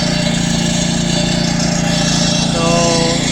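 A concrete saw cuts a construction joint into a freshly poured concrete floor, its engine droning loud and steady throughout with no talking.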